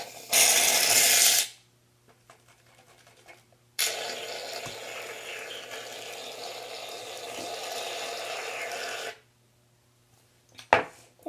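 A can of Barbasol shaving cream sprays into slime in two hissing bursts, a short blast and then a longer steady one lasting several seconds, with quiet gaps before and after.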